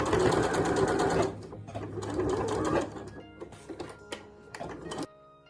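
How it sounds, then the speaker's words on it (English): Sewing machine stitching around the edges of fabric cut from a kimono obi belt being made into Christmas ornaments; loud, steady whirring runs that stop and restart several times, close by, ending abruptly near the finish. "Then I sewed around the edges, leaving a 7 cm opening for turning."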